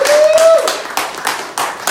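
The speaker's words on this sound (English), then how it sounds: "Give God a round of applause." Hand clapping from a church congregation after a call to give God a round of applause, a few quick bursts of clapping with a sustained tone and some voices mixed in, fairly loud and close.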